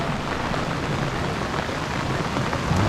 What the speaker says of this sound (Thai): ผมก็อันฝนตกครับ